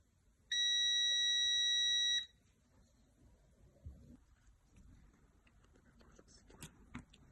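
A continuity tester gives a single steady electronic beep for about two seconds while checking a wire in a game controller, then quiet handling noises and soft clicks follow.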